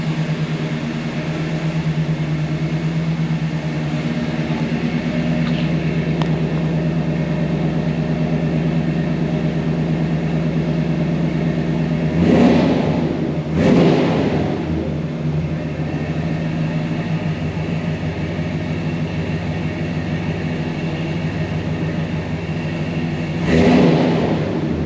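A 1978 Dodge D150 pickup's engine runs at a steady idle with a loud, even drone, then revs up briefly twice in close succession and once more near the end.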